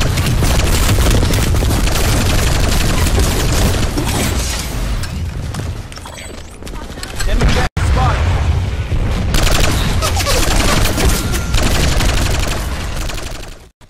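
The SVA-88 light machine gun fires in sustained, dense automatic bursts in Planetside 2, loud and continuous with heavy booming impacts, briefly dipping and cutting out near the middle before resuming and fading at the end.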